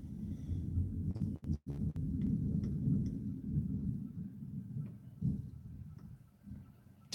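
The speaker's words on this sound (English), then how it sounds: "Did you guys hear that thunder?" Thunder rumbling low and heavy, with a few sharp cracks early on and then a long rolling grumble that fades, heard alone with no talk.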